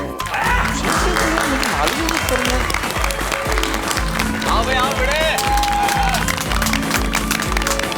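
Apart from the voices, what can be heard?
applause welcoming the society secretary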